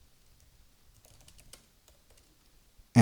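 Fingers type on a computer keyboard in quick, light key clicks for a few seconds, close and fairly quiet, ending with one sudden loud knock.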